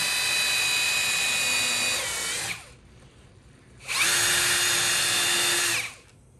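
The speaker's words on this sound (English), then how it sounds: "so drill my pilot holes first" A power drill fitted with a 1/8 inch bit bores pilot holes into wooden workbench boards in two loud, high whining bursts with a short pause between them.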